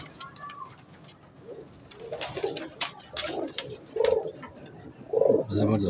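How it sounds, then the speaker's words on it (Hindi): Domestic desi pigeons coo in soft, repeated throaty calls at close range, several birds overlapping over a low background with clicks and rustles. "ये उनके देसी कबूतर हैं जो मशहूर हैं"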